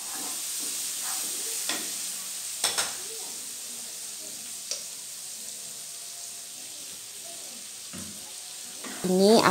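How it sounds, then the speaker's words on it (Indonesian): Sautéed spices with salt, chili sauce and soy sauce sizzle in a pan while being stirred, a steady frying hiss broken by a few scraping stirs and clinks, with no talking. "Ini aku aduk-aduk sebentar."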